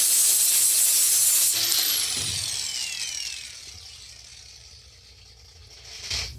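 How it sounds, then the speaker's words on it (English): A grinder works on a lawn mower blade from a Toro Turfmaster mower: a loud, harsh whine for about three seconds, then it winds down and fades to a faint hum before a short final scrape. "there's still some left, so we just need the grinder"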